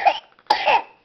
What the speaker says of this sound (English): You have a little cough